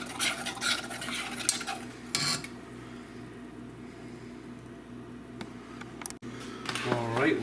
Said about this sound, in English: Whisking the flour.